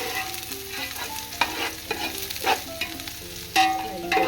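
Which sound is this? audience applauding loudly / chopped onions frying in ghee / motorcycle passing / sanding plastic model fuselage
chopped onions frying in ghee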